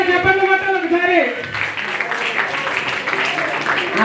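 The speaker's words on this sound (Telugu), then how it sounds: "అమ్మ చప్పట్లు, గట్టిగా చప్పట్లు కొట్టాలి ఒకసారి" An audience at a prayer gathering breaks into loud, sustained applause right after a voice finishes speaking, the clapping filling the room as a dense wash.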